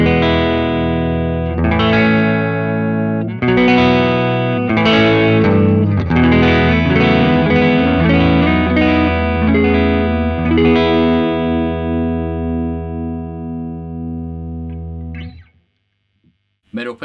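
Clean electric guitar through the neck pickup of an Italia Maranello Speedster 2, a korina-bodied guitar, playing a loud sustained run of chords and notes with a sweet, rounded tone, ringing out before a final decay into near silence.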